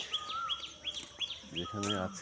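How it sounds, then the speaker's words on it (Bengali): Birds call in a village on a sunny morning, a repeating series of bright chirps at moderate distance, with someone speaking briefly over the end. "দূরে কোনো পাখি ডাকছে"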